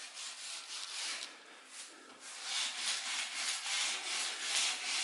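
A stiff brush scrubs stain stripper off a wooden staircase, producing a faint, steady run of rhythmic rasping strokes up close, with no talking.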